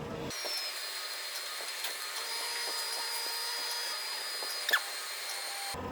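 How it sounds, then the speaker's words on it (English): A Squid Ink JetStream inkjet printer runs its start-up sequence: a steady mechanical whirring drone with sustained tonal hum and a brief click near the end, alone without talk. "Click the button and now it'll go through its sequence of starting up."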